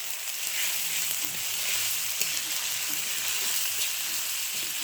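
Onion, ginger and coriander paste frying in oil sends up a steady, dense hiss of sizzling with faint occasional stirring, close and even throughout, no talk over it.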